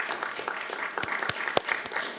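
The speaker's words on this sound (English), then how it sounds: "I want to give him a round of applause for coming up and helping us" Scattered clapping from an audience at a school board meeting, a fairly quiet, uneven patter with a few sharper, louder claps standing out, no voices over it.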